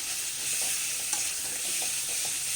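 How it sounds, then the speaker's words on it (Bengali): Salt, turmeric and cumin powder fry in hot oil for a potato and fish curry, giving a steady close sizzle with soft stirring scrapes throughout and no talk. "প্রায় 2-3 মিনিট করে ভাজা ভাজা করব।"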